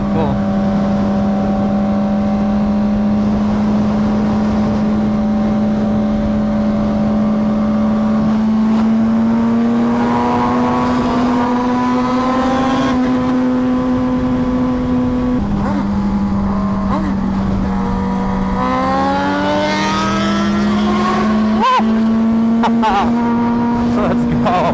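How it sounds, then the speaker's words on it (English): A loud Suzuki GSX-R1000 sport motorcycle with an SC Project exhaust drones steadily with a throaty exhaust tone, then revs up and rises in pitch several times before settling again. "They make the bike sound so good, and it has such a nice, unique tone."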